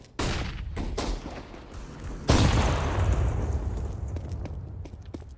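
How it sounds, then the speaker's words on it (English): A Counter-Strike flashbang goes off with a loud broadband bang midway, trailing into a long ringing decay, preceded by a few scattered gunshot cracks and movement noise in the game. "Throwing flashbang. Deploying flashbang."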